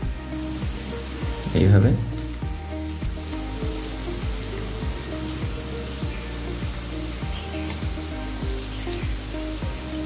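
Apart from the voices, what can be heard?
pea pakoras frying in hot oil in a kadai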